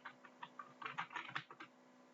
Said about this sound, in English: I'm just typing commas between these